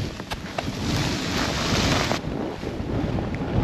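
Strong wind buffeting the microphone on a winter ski mountain at Mont Tremblant, a steady, loud roaring rush that holds for several seconds with gusty surges and no voices.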